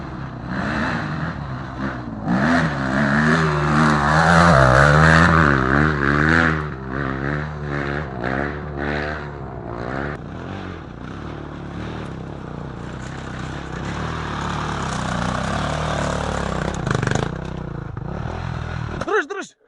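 An enduro motorcycle engine revs loudly and close up, its pitch climbing and wavering through repeated throttle blips before settling into a rough idle, with voices talking over it.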